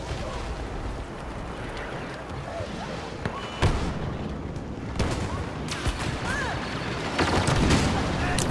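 Rapid blaster rifle fire crackles through dense Star Wars Battlefront combat, with bursts of shots layered over constant loud battle noise and sharp louder cracks near the middle and end.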